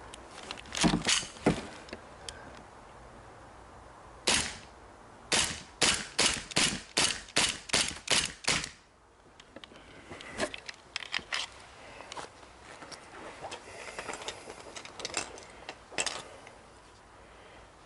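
Air gun firing 4.5 mm steel BBs in a test session: a rapid string of about ten sharp, loud cracks in quick succession, with a few scattered earlier shots and lighter clicks and handling noise in between.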